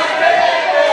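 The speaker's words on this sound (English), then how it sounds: "The crowd chanting" Wrestling crowd at a CZW Proving Grounds event chanting in a dense, steady roar of many voices, loud and continuous with a sustained pitched chant running through the mass.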